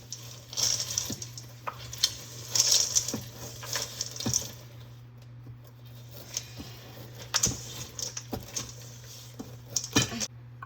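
Chocolate chip cookie dough being mixed by hand in a bowl, with irregular scraping, tapping and clicking strokes that come in bursts with short pauses between them.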